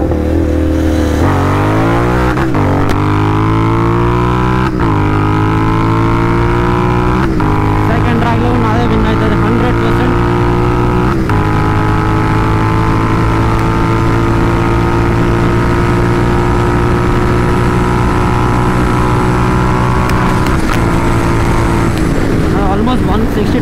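A pair of GT650 motorcycles, one tuned and one stock, rev and accelerate in a roadside drag race; the loud engine drone rises and falls in pitch with repeated gear changes, and a rider talks over it throughout.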